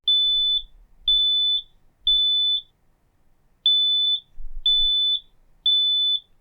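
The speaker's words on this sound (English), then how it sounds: "3 beeps in a row indicates smoke or fire." A smoke alarm sounds shrill, piercing beeps in two groups of three, each beep about half a second long, separated by a short pause.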